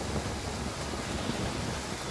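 Rain in the video game Total War: Pharaoh, a dense, steady hiss of falling rain, even and unbroken throughout, with no speech.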